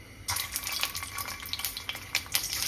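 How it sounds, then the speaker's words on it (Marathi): Cumin seeds tempering in homemade ghee for jeera rice, a close crackling sizzle with quick popping bursts and a stirring scrape throughout, no voices. "मी जिरा राईसला सुद्धा फोडणी दिली आहे अगदी घरच्या साजूक तुपामध्ये जिरा टाकला"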